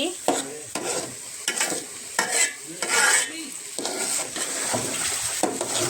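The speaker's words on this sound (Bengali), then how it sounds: "এইবার আপনার পোলাওয়ের চাল ভাজা শুরু করে দিয়েছি।" Pulao rice fries in a pan while a spatula stirs and scrapes it in repeated strokes, each pass bringing a gritty rustle over a constant sizzle, close and fairly loud.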